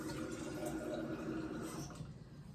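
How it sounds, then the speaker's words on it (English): Tap water running steadily from a faucet, being fetched for a slow cooker, a continuous close rushing flow that eases slightly toward the end, no talk. "Hold on a second, let me get some water."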